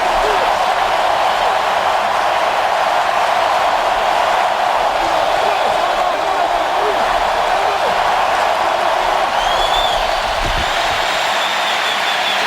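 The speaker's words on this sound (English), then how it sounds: "And now you'll hear this New Orleans crowd." New Orleans Saints home crowd roars in the stadium on a third down against the Buccaneers, a loud, sustained wall of crowd noise with cheering throughout, as a broadcaster talks over it.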